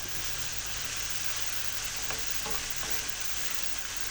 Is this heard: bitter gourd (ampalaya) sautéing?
yes